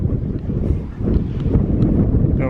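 Wind buffets the microphone outdoors on a hill near the New Bedford hurricane barrier, a loud constant low rumble with gusty fluctuations and no talking.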